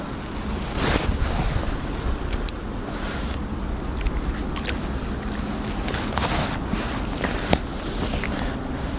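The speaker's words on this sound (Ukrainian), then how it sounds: "Трішки заважає вітер." Gusting wind over a frozen lake in Kyiv during winter perch ice fishing, a broad steady rushing roar buffeting the microphone, with a few faint knocks and thuds scattered through it.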